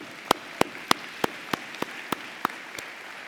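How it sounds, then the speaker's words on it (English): Spring commencement ceremony audience at a college of social work applauds: a quiet hiss of distant clapping with a string of sharp, evenly spaced near claps over it. "you deserve another round of applause"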